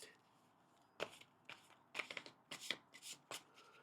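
Playing cards from the Luthier board game are shuffled in several quick riffling bursts, crisp papery flutters close by with short pauses between them.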